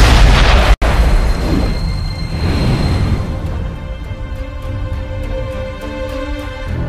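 A German Tiger tank in 1944 explodes with a loud, heavy blast that gives way to a long rolling rumble, slowly fading, with no voices.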